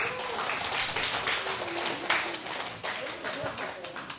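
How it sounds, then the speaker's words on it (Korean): A church congregation claps to welcome a guest, a steady wash of many hands applauding throughout, fairly dense and even, with faint voices underneath. "우리 박수로 환영하겠습니다."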